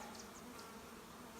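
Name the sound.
honeybees buzzing in nuc box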